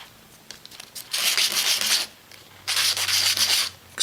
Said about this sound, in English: I also give a light sanding to the edge here on all the